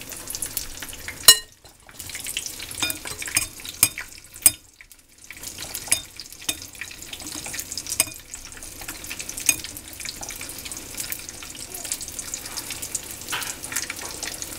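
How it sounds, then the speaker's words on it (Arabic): Onion rings for crispy American-style rings frying in hot oil, a steady close crackle and sizzle that runs throughout, with a few louder sharp pops and a brief quieter dip early on. "ونقليوها."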